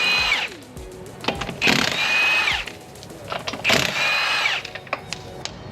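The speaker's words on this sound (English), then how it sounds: "he's using chrome sockets on an impact" Impact wrench fitted with chrome sockets taking the wheels off a 2005 Yukon, with two loud, sustained whirring bursts of a few seconds each, plus shorter clicks and clanks between them.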